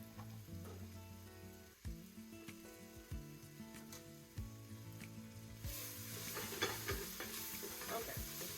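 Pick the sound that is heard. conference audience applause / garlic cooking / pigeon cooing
garlic cooking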